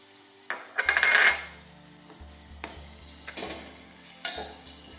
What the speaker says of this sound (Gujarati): થોડી વાર આ રીતે આપણે સાતવી દઈશું હવે આપણે આદુ નાખી દઈશું